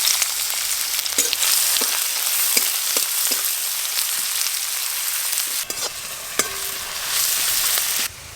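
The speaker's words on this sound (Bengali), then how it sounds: "পেঁয়াজ অর্ধেক ভাজা ভাজা হয়ে গেছে" Chopped onion sizzles steadily in hot mustard oil for a small-fish curry with potato and eggplant, a bright continuous hiss broken by occasional clicks from stirring, with a brief dip and a louder surge of frying near the end.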